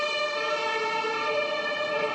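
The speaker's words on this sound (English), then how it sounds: "there's a siren" An emergency siren wails steadily at a moderate distance, its tone holding for the whole stretch with no one talking.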